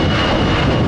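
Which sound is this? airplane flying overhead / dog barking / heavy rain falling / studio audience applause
airplane flying overhead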